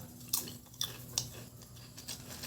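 Crunchy shiitake mushroom rice crackers being chewed close up, a few sharp bites and crisp crunches over soft mouth sounds with no talking.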